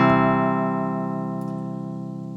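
A single strum triggered on a Pico Cheatar pad controller rings out as a bright, sustained electronic chord that slowly fades over a couple of seconds, heard alone without talk.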